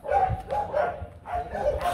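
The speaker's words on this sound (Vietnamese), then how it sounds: "ba em cún con" Bobtail village-dog puppies bark in quick, close yips, three or four short bursts in rapid succession with no talk over them.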